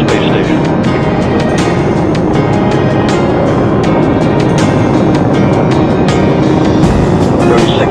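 Space Shuttle Discovery's three liquid-fuel main engines during launch, heard from a distant causeway as a continuous loud broadband roar with crackling texture, holding steady throughout.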